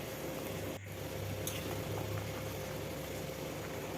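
A thin tangra fish curry broth boils in a pot, a faint, steady bubbling and simmering heard up close. A brief soft knock breaks in early on.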